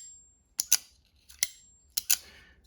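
A folding knife, the black Winterblade Co Factor, snaps its blade open three times, each crisp metallic click followed by a brief bright ring, close and alone.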